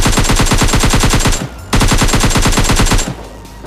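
Thompson submachine gun in the PUBG Lite video game firing loud, rapid full-auto bursts, a long burst of about 1.5 seconds, a brief pause, then a second burst of roughly 1.3 seconds, with no talking.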